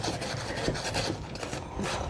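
Sandpaper rasping steadily against a rusty metal patio surface, a continuous close scratchy scrubbing with repeated back-and-forth strokes and no talk.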